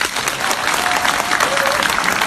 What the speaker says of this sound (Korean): 동의하시면 박수 한번